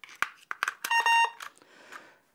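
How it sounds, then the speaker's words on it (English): An Easylink bed and chair pad gives a short electronic beep after batteries are inserted, a clear steady tone amid brief handling clicks, close and moderately loud with no speech. "it should beep twice to tell us that batteries are full and working"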